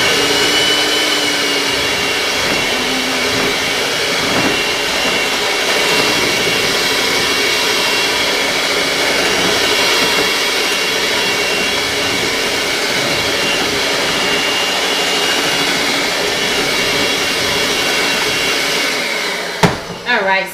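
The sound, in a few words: electric mixer mixing pineapple upside down cake batter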